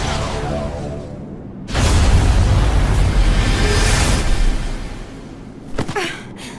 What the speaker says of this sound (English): That was like a massive explosion